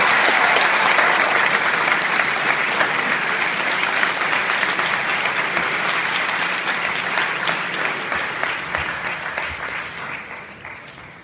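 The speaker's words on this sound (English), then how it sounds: "give them a big round of applause" A school assembly crowd gives sustained applause to its state champion tennis team, loud dense clapping that carries on for several seconds before slowly tapering off at the end, with no speech over it.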